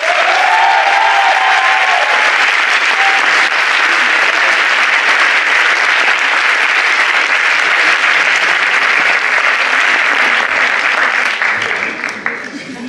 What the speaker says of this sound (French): Applaudissons Alban.